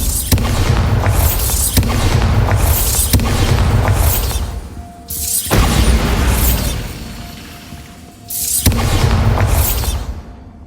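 Repeated Bombarda spell blasts in Hogwarts Legacy, loud booming explosions with whooshing bursts that roll into one another, a brief dip and pause before the final heavy boom.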